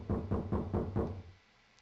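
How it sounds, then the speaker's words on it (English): Five evenly spaced, heavy knocks on a door in the Zero Escape: 999 video game, loud and close, followed by a quiet tail with no voices. "Somebody's knocking. Maybe from the other side of the door."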